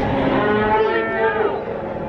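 Sheep on a farm give a single drawn-out, wavering bleat, close and clear, with no talking over it.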